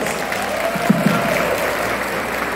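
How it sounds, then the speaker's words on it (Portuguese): An audience at a municipal education conference gives a steady round of applause, a dense even clatter of many hands lasting throughout with no talk over it. "Uma forte salva de palmas."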